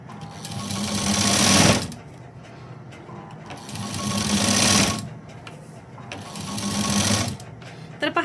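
A sewing machine runs in three sustained bursts with short pauses between them while stitching a sleeve onto a garment during tailoring, loud and close, with some talk in the background.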